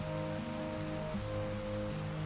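Steady rain patters down in a farming video game, a continuous hiss over low sustained background music tones, without any voices.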